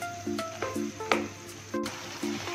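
Maggi noodles with masala sizzle softly in a hot pan as a spoon stirs them, faint crackling broken by short repeated scraping taps of the utensil against the pan, close and quiet, no talk.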